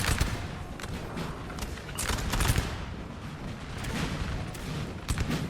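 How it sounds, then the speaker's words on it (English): Repeated volleys of artillery canister fire crack and boom in a Napoleon Total War 4v4 battle, with several sharp bursts and a rolling din of distant gunfire and shots throughout. "Wow, that's some nice canister going off."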